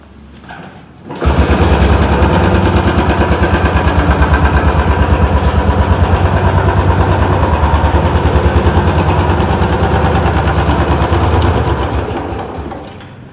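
A 2020 BS6 Bullet motorcycle engine starts about a second in and settles into a loud, close, steady thumping idle that runs to the end of the clip.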